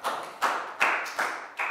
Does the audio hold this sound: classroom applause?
yes